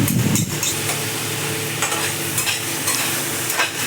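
Ginger garlic paste fries in oil while being stirred, giving a continuous close sizzle with scraping stir strokes and no voices.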